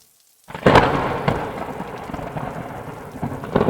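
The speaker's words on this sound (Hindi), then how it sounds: "कुछ दिनों में बारिश का मौसम भी आ जाता है और तेजी से बारिश शुरू हो जाती है" Heavy cartoon rain pours steadily after a moment of silence, with sharp thunder cracks breaking through near the start and again at the end.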